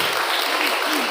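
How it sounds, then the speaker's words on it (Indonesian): Dense, steady applause from an audience at a school career-day motivational seminar, a brief continuous burst of many hands clapping. "Tepuk tangan dulu buat bunda kita ya."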